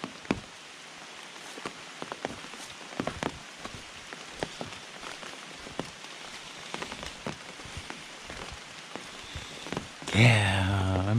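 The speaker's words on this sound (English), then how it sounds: "The rain on the roof sounds lovely." Steady rain patters on a roof along a park walking trail, a dense continuous patter with scattered louder drips, ending in a brief burst of louder, different noise.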